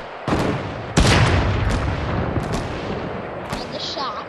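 A sniper rifle shot in the Fortnite video game lands as a loud sharp boom with a rolling echo, followed by fainter distant gunfire cracks.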